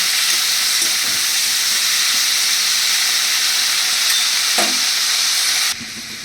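Chilli and spices fry in hot oil in a pan, a loud continuous sizzle with a few faint stirring knocks, cutting off abruptly near the end; no one speaks.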